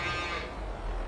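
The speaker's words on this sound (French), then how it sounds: "La vache il gueule les veaux." In the video game Farming Simulator 22, a cow lets out a single short, low moo toward its calves, close and clear against a quiet farm background.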